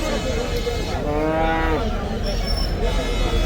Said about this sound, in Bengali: অনেক বড় বড় সব গরু এখানে কিন্তু